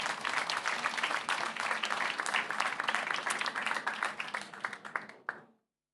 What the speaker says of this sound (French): Ça mérite aussi des applaudissements.